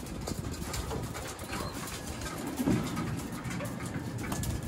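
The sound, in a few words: Vandenbroek pigeons cooing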